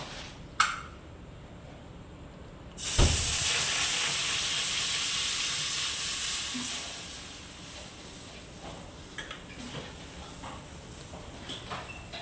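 Water heats in a wok on the stove for making kheer. A sharp clunk comes first, then a steady hiss that starts abruptly and slowly fades while faint clinks sound now and then.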